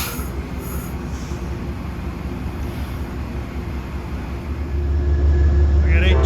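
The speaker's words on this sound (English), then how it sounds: "Here comes train 64 now" A Metro-North passenger train rolls into a station, a steady low rumble that swells louder toward the end as it draws near, with faint wheel squeal on top.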